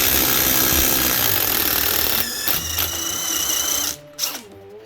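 A Ryobi One+ HP cordless impact wrench hammers loudly on a 3/8 bolt with a 9/16 socket, a dense rattling burst that stops abruptly near the end, followed by a brief short whir.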